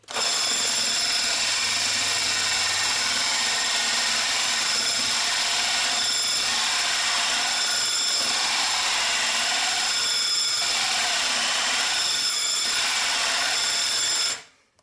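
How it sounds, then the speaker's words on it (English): A drill runs continuously at high speed for a long stretch, its hole saw grinding steadily through a kitchen worktop with slight periodic surges, then stops abruptly. "Put your drill on the highest setting, but don't force it in there."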